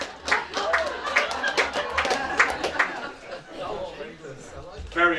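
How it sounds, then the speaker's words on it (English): An audience claps and cheers at a limerick contest in a music venue, bursts of applause rising and fading amid crowd chatter, with talk over the noise. "Give him a round of applause."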